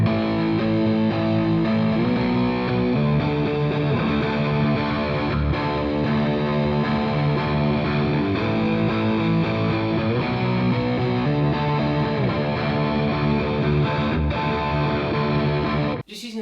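Electric guitar power chords with heavy distortion play the bridge of a song, a loud, sustained wall of chords that shifts shape every couple of seconds and runs unbroken with no talking.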